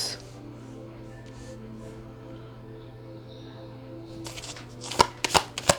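Tarot cards riffle and snap in a few quick, crisp bursts near the end after a stretch of quiet room hum, close by and moderately loud.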